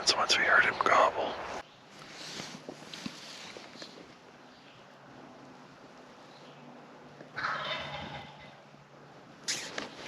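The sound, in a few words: wild turkey gobbling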